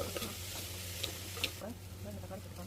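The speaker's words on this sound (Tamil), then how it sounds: "கொஞ்சமாக எண்ணெய் விட்டு கடுகு, வெந்தயம், வெங்காயம் சேர்த்து நல்லா வதக்கிக்கலாம்" Mustard seeds, fenugreek and onion sautéing in a little oil in a hot clay pot for fish curry, a steady low sizzle with occasional light ticks and scrapes of stirring, close and continuous.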